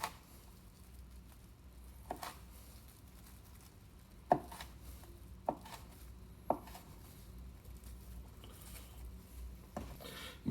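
A chef's knife finely dicing habanero peppers on a cutting board: a handful of sharp, irregular chops spaced out over soft scraping and rubbing, fairly quiet and close.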